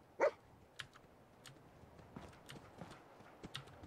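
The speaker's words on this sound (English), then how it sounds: "Come here, Death Meat. Or, dog." A dog in the video game Fallout 4 gives one sharp bark near the start, followed by quiet, scattered clicks and patters, all fairly faint.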